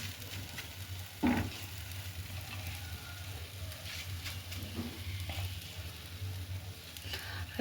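Potato curry with onion, tomato, mustard seed tempering, ginger and spices fries in a pan with a continuous soft sizzle, broken by occasional clatters and scrapes of stirring.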